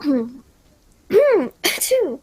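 A single sharp human sneeze between spoken words, close and loud, with voices talking right before and after it.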